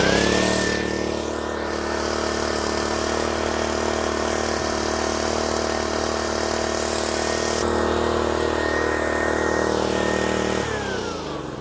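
A power washer with a worn pump runs with low pressure, giving a steady loud mechanical engine drone with a whining tone that holds for about eleven seconds, then starts to drop at the end.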